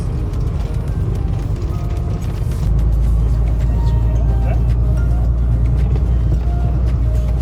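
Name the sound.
car driving on a patch of asphalt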